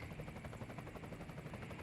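A helicopter flies over a military helicopter training school, its rotor thudding in a steady rapid pulse over a continuous engine drone, moderately distant and alone.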